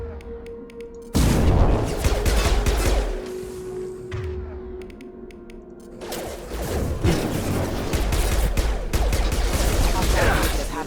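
Gunfire in the video game Mass Effect 2, with bursts of rapid automatic shots and booming impacts in two dense stretches, loud and close, under game voices and music.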